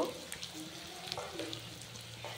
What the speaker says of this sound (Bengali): ক্যাপসিকাম, কাঁচা লঙ্কা ভালোভাবে ভেজে নেব।